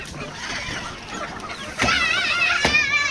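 A flock of chickens clucks busily while pecking at azolla feed, with overlapping close calls and a couple of louder sharp squawks toward the end.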